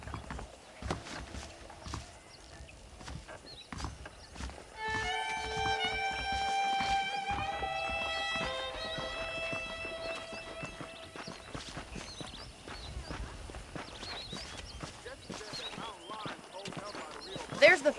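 Horse hooves clip-clop steadily at a walking pace in the video game Red Dead Redemption, while a person talks and a short musical phrase rises and fades.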